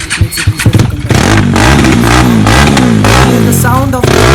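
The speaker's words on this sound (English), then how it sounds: "then he's going to start the vehicle again" A Formula Student race car engine is started after priming, sputtering briefly before catching and then revving repeatedly with rising and falling pitch, loud and close, with some voices in the background.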